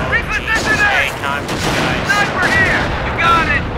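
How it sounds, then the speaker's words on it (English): Rapid gunfire from the Company of Heroes: Far East War real-time strategy game, several bursts of shots in quick succession under a loud, busy battle mix. "Taking fire!"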